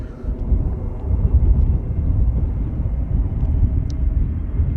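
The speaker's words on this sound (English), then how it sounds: "Transavia flight 5718 arriving from Rabat, and that is in Morocco." A Transavia passenger jet arriving at Amsterdam Schiphol Airport produces a heavy, steady low rumble, loud and sustained with no voices over it.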